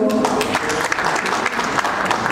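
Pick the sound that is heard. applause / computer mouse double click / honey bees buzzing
applause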